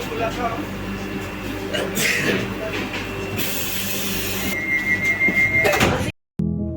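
Inside a Howrah to Gaya Vande Bharat Express train, a loud pneumatic hiss and sliding rumble as a door opens, with a recorded announcement voice and a steady carriage hum.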